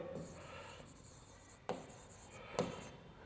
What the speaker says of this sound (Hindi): चले लिखने जा रहा हूँ मैं, लिखेंगे